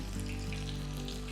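Dense, steady sizzling of fenugreek-leaf and flattened-rice vadai frying in hot oil, a loud continuous crackle close up with no talk.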